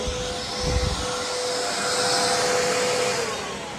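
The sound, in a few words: snow machine running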